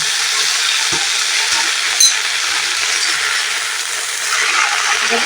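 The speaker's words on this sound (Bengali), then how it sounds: "এইভাবে নেড়ে দেবো" Bottle gourd leaves fry in a hot pan with dried and green chilies and black cumin, a loud, steady sizzle close up with a brief metallic clink as a utensil stirs them.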